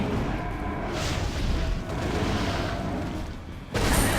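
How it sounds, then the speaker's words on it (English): Fiery explosions from the Molten Hammer skill in Torchlight 2, a dense, continuous rumble of booms and crashes that swells and dips, with a sharp fresh blast near the end. "Bam! Explosions everywhere."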